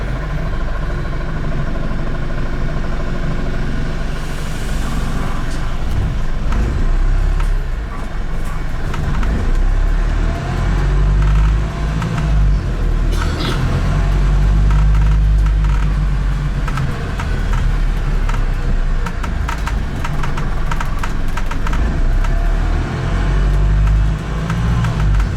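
A Brighton bendy bus in motion, heard from inside: a loud, steady engine drone with low rumbling surges and occasional creaks and rattles from the cabin, continuous throughout with no talking.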